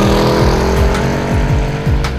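A Mercedes-Benz E63 AMG roars close by on a racetrack, its loud engine rising through repeated gear shifts in a rapid sequence of revving pulls.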